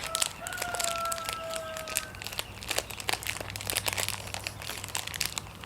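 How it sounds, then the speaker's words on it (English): A child crinkles a plastic fruit snack wrapper close by, making a busy, continuous crackle of sharp rustles and crunches that runs throughout, with a brief tonal call in the background near the start. "Can you crinkle that more?"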